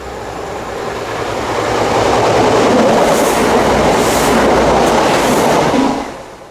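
A train rolls through a small country station on a rural branch line near Portsmouth Arms, loud and close, with a steady rumble and clatter that builds, holds and then fades as it passes.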